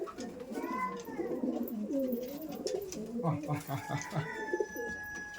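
Kalasobuj pigeons released from their loft in Baharu village give soft, repeated cooing calls close by. Faint chatter and other bird sounds mix in around them.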